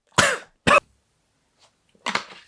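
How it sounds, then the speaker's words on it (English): A person in a coughing fit while laughing: two sharp, loud coughs in quick succession, a short pause, then a rougher burst of coughing, close and alone. "I just had a coughing fit"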